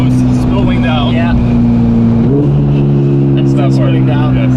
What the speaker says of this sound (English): off the throttle. You hear the turbos spooling down.